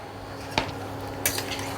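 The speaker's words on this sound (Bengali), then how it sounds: "আর একটু লবণ দিয়ে দিলাম এবার দিয়ে দিলাম গোটা টমেটোগুলো" Whole tomatoes dropped into a cooking pot of mutton keema ghugni, making two brief knocking thuds against the metal about half a second apart over a low kitchen hum.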